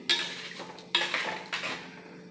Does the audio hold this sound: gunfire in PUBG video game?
no